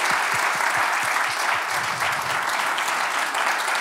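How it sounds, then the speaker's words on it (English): An audience at a cryptography masterclass claps steadily for several seconds, a dense even patter of applause with no voices on top. "Let's give a round of applause."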